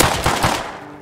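Gunfire in the video game Rust, a loud close burst of rapid automatic shots lasting about half a second, then a fading tail with no talking.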